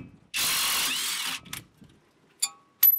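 A power tool whizzes off a brake caliper bolt on a 1980s Rover SD1 2600: one loud burst of about a second, then brief ratcheting clicks and short mechanical bursts with pauses between.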